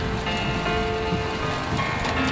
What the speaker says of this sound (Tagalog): inabot na kami ng ulan sa aming pag-Baguio tour